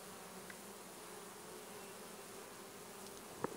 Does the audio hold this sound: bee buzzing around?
yes